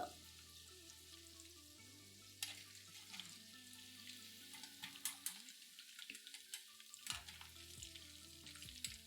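Chicken pieces fry in hot oil for chilli chicken, a faint continuous sizzle with occasional clinks and scrapes of a ladle lifting them out, heard close with no speech.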